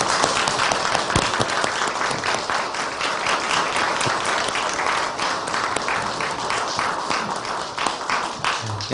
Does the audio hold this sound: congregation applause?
yes